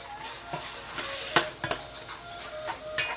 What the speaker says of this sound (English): And allow this to just keep sauteing so it can have some nice color.